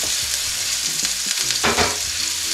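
Chopped ginger sizzles and crackles steadily as it fries in hot cooking oil for a Filipino pork offal papaitan, with occasional stirring scrapes in the pan; no one talks.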